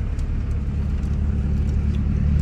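A pickup truck drives at a quarter horse championship showground, giving a steady, close low engine rumble and road noise with no change in pace and no voices.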